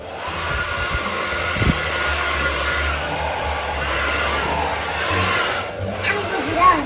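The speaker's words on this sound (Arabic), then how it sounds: "هو ده الاستشوار" A handheld hair dryer blowing continuously at close range, a loud steady whooshing drone for about seven seconds with small shifts as it moves, with a few bumps and faint background sounds.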